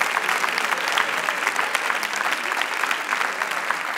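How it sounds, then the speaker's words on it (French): A crowd applauds at an evening business event, a thick, continuous wash of clapping from many hands, loud and steady for the whole stretch with no pause. "Est-ce qu'on peut l'applaudir bien fort,"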